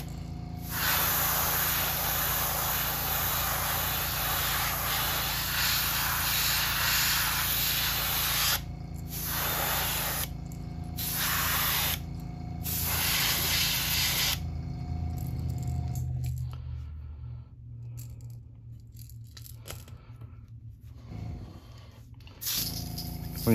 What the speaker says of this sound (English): Whenever you're spraying yellow, you always want to make sure you put a base coat of white down first.